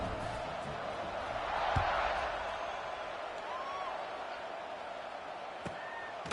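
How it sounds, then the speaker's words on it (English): Stadium crowd noise from the College Football 26 video game during a kickoff, a steady broad roar with a swell of cheering early on and a few faint whistles and thuds over the continuous din. "this crowd is feeling themselves after that last drive"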